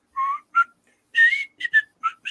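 A person whistles a short, bright melody in separate clear notes and brief phrases, close and loud against silence.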